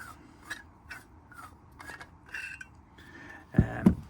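The threaded metal bottom of an old miner's Davy lamp is unscrewed, producing close, repeated scraping and grinding rasps, ending in louder metallic knocks.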